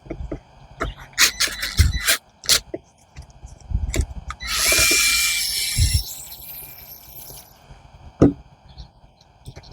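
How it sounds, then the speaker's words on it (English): Screws being worked loose from the carburetor mount of a Talon AT33352 line trimmer, with scattered close metallic clicks and taps and a brief rasping, whirring burst in the middle. "So we need to remove these two mounting screw here."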